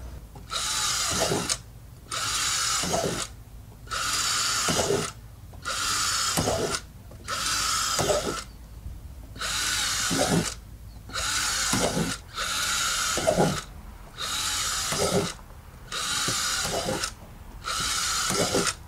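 A power drill bores holes into a barrel to turn it into a compost sieve, sounding as about nine steady high-pitched whirring bursts of two seconds each, separated by short pauses, close by with no talking.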